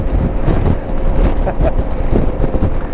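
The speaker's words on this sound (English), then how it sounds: "it's so windy. I'm getting battered." Strong wind buffets the microphone during a bike ride in North Nottinghamshire, a constant low roar, gusting and rumbling throughout.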